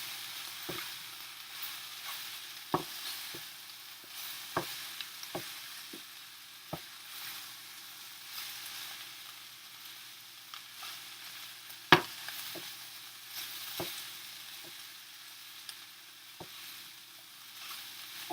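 Turkey, sweet potato and zucchini with garlic sizzling in a skillet, a steady low frying hiss broken by scattered sharp clicks and scrapes of a utensil tossing the food, close and fairly quiet.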